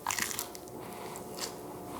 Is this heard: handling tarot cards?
no